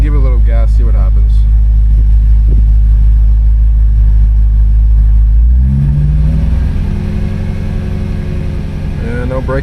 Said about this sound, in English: Let me give it a little gas, see what happens.